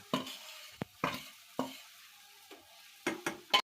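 Milk powder, raisins and almonds are mixed into a cooking coconut sweet, with a handful of short, close scraping strokes of a spoon against the pan and quiet pauses between them.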